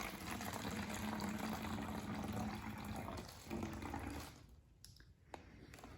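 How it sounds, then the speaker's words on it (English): Hydrogen peroxide poured from a measuring cup into an empty plastic bottle on a kitchen table, a steady close liquid gush lasting several seconds before it tapers off into a few faint drips and clinks. "Then we're going to pour a half a cup of peroxide"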